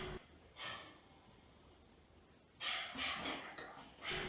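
A dog gives a short bark, then after a pause two more bursts of barking, faint and somewhat distant over a quiet background.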